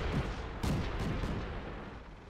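Tank cannons firing in the World of Tanks video game, two or three heavy booming blasts in quick succession with rumbling decay, loud and close.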